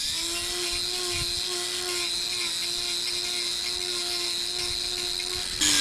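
A power tool whines at a steady high pitch while trimming and re-levelling a cow's claw during hoof restoration, running continuously and loud, then jumping briefly at the very end.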